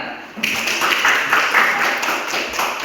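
Applause from an audience after a group presentation in a discussion session, steady, moderately loud, with a broadband clapping texture sustained throughout.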